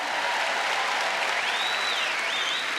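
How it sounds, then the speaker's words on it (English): A large crowd at the Crufts international agility final claps and cheers in a dense, continuous roar of applause with a few whistles rising above it and no clear speech. "give her a cheer"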